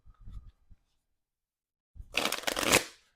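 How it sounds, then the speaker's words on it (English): Flip 7 playing cards riffle-shuffled at a home game night, a quick burst of crisp paper flutter after a few soft handling taps, close and clear with no talking. "I'm going to go again on Flip 7 because it's the last game, and I can do it. So let me give it a shuffle here."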